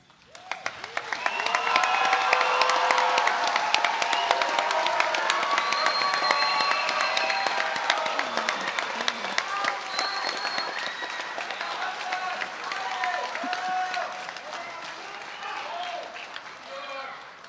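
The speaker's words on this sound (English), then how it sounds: "Seniors, if you received an associate's degree, please stand for a round of applause." A high school graduation audience applauds seniors receiving associate's degrees, a long steady round of clapping with scattered voices and cheers throughout, slowly easing toward the end.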